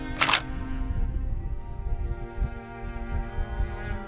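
A single crisp camera shutter click sounds near at the start as a selfie is taken on a mountain summit, followed by a quiet, low outdoor background.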